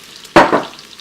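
Red onion drops into melted butter in a pan over medium heat, giving a short sharp sizzle burst followed by a second smaller hiss that fades quickly, close and fairly loud, no voices.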